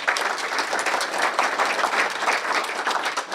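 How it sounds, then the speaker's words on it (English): A big round of applause from an audience at a talk on first racing competitions, dense steady clapping running evenly at moderate loudness throughout. "So let's give him a big round of applause."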